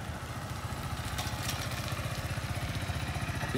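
A motorcycle rides along in a steady engine drone with a fast, even pulsing throb, close and loud, as the rider shifts into third gear.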